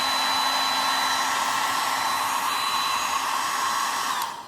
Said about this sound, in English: It was nice enough that hair dryer didn't cut out on me